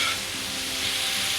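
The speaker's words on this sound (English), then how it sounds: "High heat now though, you can smell the pork cooking, that crust on" Pork and spices for green chile stew sear over high heat in a pan, giving a dense, steady close-up sizzle and hiss with no voices over it.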